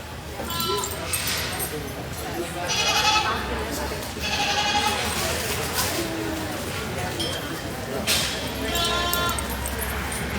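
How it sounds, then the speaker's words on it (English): Loose goats bleating in a livestock barn at a junior wether doe show, repeated loud bleats from several animals over a busy background of crowd noise and general barn din. "looks like we have some loose goats in the barn again"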